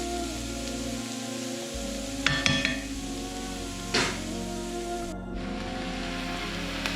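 Vegetables cook in a pan with a steady, loud sizzle and crackle, while a utensil stirs them and now and then clinks and scrapes against the pan.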